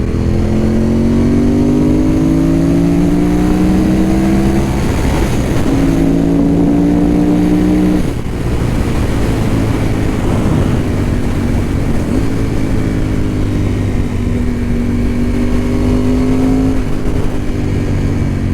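A motorcycle on a winter ride accelerates through the gears, its engine note rising loudly in pitch several times with brief dips between shifts, under steady wind rumble and with no talking.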